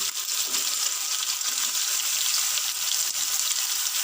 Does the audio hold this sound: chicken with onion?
yes